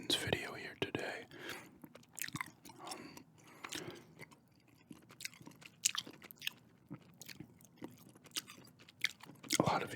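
Wet, close-up gum chewing with crisp smacks and crunches in an irregular rhythm, set against soft whispering throughout.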